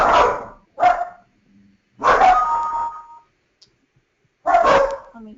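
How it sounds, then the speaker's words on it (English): Two puppies barking heard through an online call, a few loud separate yips and barks spaced across several seconds with quiet gaps between them. "Do you have multiple puppies in there?"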